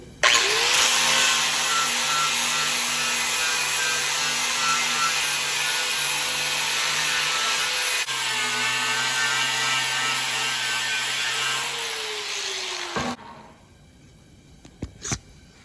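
A grinder with a Warrior 80 grit flap disc cleaning rust off metal, a loud continuous whine with steady grinding tones, pausing briefly midway, then spinning down to silence near the end.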